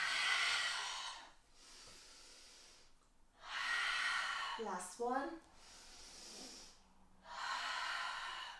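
Rapid, forceful nasal breaths of fire breathing during a pregnancy yoga flow in a low lunge, loud hissing bursts pumping in and out in three sustained rounds, with a short spoken phrase between them.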